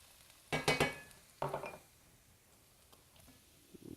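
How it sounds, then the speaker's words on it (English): Onions tipped into a hot pan for sautéing at the start of cooking quinoa stuffed peppers: two short, loud bursts of clattering, stirring sizzle, then quiet with faint scattered taps near the end. "we are ready to begin sauteing our onions and carrots"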